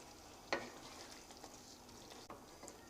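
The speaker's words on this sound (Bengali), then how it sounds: "এই সবগুলোকে দিয়ে জাস্ট একটু মিক্স করে নেব" A spoon stirring chicken curry in a pan after julienned carrots and chopped coriander go in: a soft sizzle underneath, with a couple of sharp scrapes against the pan, close and fairly quiet.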